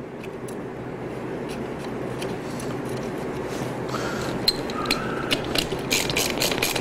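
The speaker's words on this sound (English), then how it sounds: "And the final nut, tightening in the star pattern." A wrench ratchets on the lug nuts of a Vespa scooter wheel, tightened in a star pattern, with a rapid clicking that grows busier toward the end, close over a low steady background hum.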